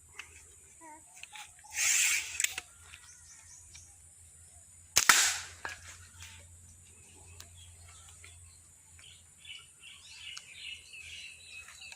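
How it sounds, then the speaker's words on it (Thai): A slingshot rifle fires at a Coke bottle and a Coke can, producing two sharp, bright cracks a few seconds apart over a quiet outdoor background with faint bird chirps. "แล้วก็ยิง ขวดโค้กก่อนนะครับ แล้วก็ตามด้วยกระป๋องโค้กครับ"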